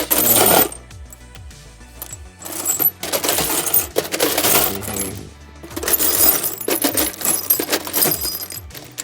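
Metal bolts clink and rattle as a hand rummages through them, producing dense bursts of jangling metallic clatter with short pauses, close and fairly loud, during work on a 2002 GMC Envoy headlight mounting panel.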